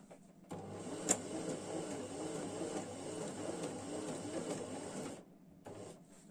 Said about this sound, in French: Donc maintenant je couds.